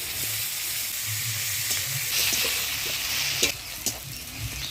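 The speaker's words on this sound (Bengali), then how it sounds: "এবারে দিয়ে দিচ্ছি পেঁয়াজ কুচি।" Chopped onion sizzles in hot oil with dry red chilli, cumin and bay leaf for a Bengali bhola fish curry, a steady loud frying hiss broken by a few spoon scrapes and clinks.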